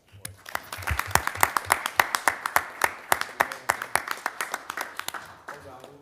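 Applause for the police department at a township committee meeting, a small group of hands clapping close by in quick sharp individual claps that build and then thin out toward the end, with some talk mixed in.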